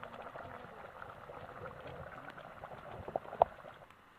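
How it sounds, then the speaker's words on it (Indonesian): Rice water boiling in a pot for Sundanese nasi liwet at an outdoor garden hut: a faint, steady bubbling hiss with a couple of brief louder pops near the end. "Udah mendidih ya. Tuh udah mendidih."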